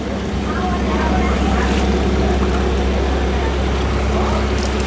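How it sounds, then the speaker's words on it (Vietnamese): A boat motors along a canal with a steady, loud engine drone and churning water that holds evenly throughout. "Chút xíu là ghe chạy, chút xíu là ghe chạy rồi."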